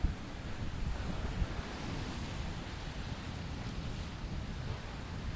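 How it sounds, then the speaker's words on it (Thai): Strong wind roars across the microphone at the Bang Saen seaside in Thailand, a steady dense rush with low buffeting and surf mixed in, running unbroken with no voices. "โอ้ลมพัด"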